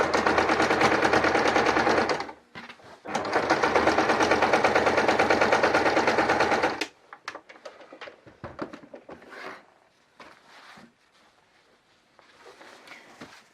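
A sewing machine stitches around the edge of a decorative cushion in two long, loud, steady runs. Softer handling clatter and light knocks follow once the motor stops.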